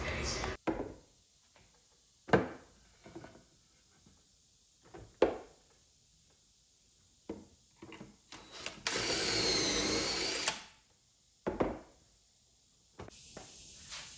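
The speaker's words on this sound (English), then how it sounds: "So I'm using a pocket hole jig to make the holes." Pocket holes are drilled into a wooden board for a pickleball paddle rack using a pocket hole jig, heard as a sustained whining drill burst among scattered knocks and handling clatter nearby.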